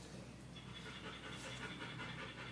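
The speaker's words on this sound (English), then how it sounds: "Hopefully you can hear us over this panting." A dog pants in quick, steady breaths, soft and close, keeping an even rhythm throughout.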